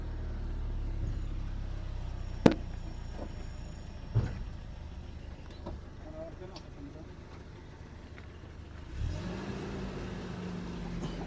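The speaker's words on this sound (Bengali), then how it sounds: "ভাই গাড়িটা স্টার্ট দিচ্ছে দেখেন" A Datsun car engine runs steadily after starting, a low continuous rumble with a couple of sharp knocks and a brief rev near the end, while people talk nearby.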